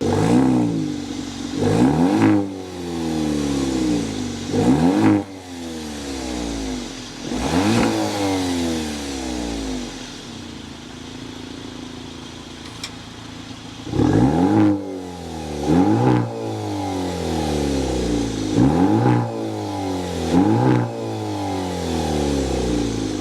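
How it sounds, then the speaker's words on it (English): A 2025 Maserati Grecale Modena's engine revs hard several times in sweeping surges, each rising and falling sharply, with idling between the bursts; loud and close, no talking. "start it up to hear if this is a real Maserati exhaust note"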